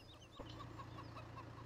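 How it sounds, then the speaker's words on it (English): Chickens in the farming video game Farming Simulator 17 cluck steadily in short repeated bursts over a low hum, fairly quiet and with no talking. "So now let's check out the chickens."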